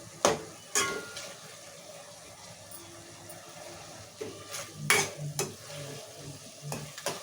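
Tomato and fenugreek leaves cook in oil with a soft, low sizzle, punctuated by a few sharp scraping clinks of a spoon against the pan.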